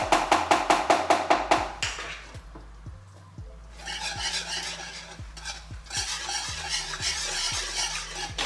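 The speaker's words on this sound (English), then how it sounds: "can you mix that in a little bit more, babe, please?" Cheese being stirred into noodles in a pot with a utensil: a quick run of rhythmic scraping strokes, a brief lull, then a looser, continuous mixing and squelching with a faint sizzle, close by with no talk.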